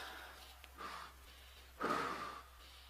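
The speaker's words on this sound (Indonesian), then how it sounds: "Hu itu bunyi nafas." Two soft exhaled breaths voice the 'hu' of dhikr chanting, a faint brief puff followed by a stronger, longer breath, close and quiet.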